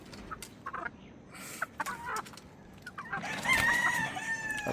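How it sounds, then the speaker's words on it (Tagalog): Chickens cluck in short, scattered bursts nearby, with a rooster crowing loudly toward the end over a busy farmyard background. "Marami silang manok. Mga manok."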